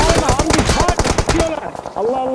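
Fast gunfire in a battle royale video game, a dense close burst of rapid shots with a spoken voice over it, then quieter talk as the firing stops.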